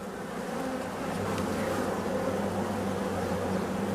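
Honey bee colony humming inside a hive in late September, a dense, steady buzzing drone heard close and continuous, with no voices.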